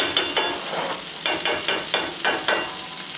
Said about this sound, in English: And I baste my steak